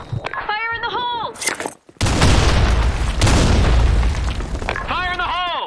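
A grenade explodes with a loud, booming blast in a multiplayer shooter video game, its roar sustained for several seconds, with shouted voices heard before and after it.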